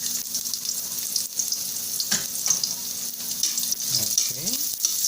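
Garlic sizzles in a hot pan for chicken arroz caldo, a continuous close crackle with brief stirring scrapes.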